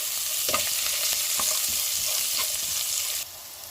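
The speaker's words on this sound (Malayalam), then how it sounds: "ഇഞ്ചി വെളുത്തുള്ളി പച്ചമുളക് കറിവേപ്പില നമുക്ക് എണ്ണയ്ക്കകത്തും താളിച്ചെടുക്കാം ചെറുതായൊന്ന് മൂപ്പിച്ചെടുക്കാം" Ginger, garlic, green chili and curry leaves sizzle in hot oil while being stirred, with a steady close crackle and occasional sharper pops, and no talking.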